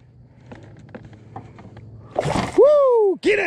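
A three-pound bass is dropped back into the water with a sharp splash after a few quiet taps, followed by a loud whooping voice.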